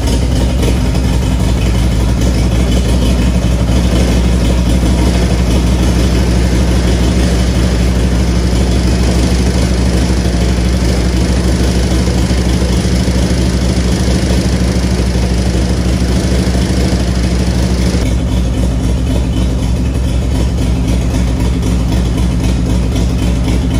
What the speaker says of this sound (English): let's not forget the best part about these engines. They sound wild.